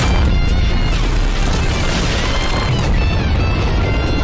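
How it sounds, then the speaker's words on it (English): A loud anime explosion from Konosuba Season 2 roars as a dense, sustained blast with heavy low rumble and crackling debris, filling the whole stretch at full volume. "that's by having Megumin explode the problem"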